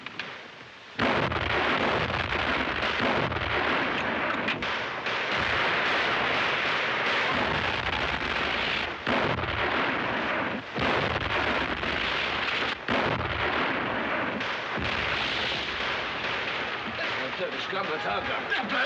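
Artillery guns firing on an enemy arsenal in a 1939 war film, heard as a dense, continuous barrage of booms and blasts that stays loud throughout, with speech mixed in under the gunfire.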